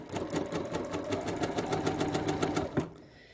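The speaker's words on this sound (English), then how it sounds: "Put my foot down and sew." A sewing machine runs steadily through fabric for about three seconds, pivoting around the needle while stitching a bias-cut scarf, with a rapid even needle rhythm up close before it stops.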